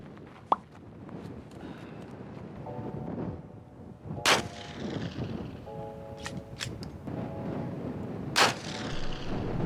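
Glock pistol shots fired at a balloon target about a mile away, the muzzle angled steeply upward: four sharp, loud reports spaced irregularly over a steady outdoor background with a faint tonal hum.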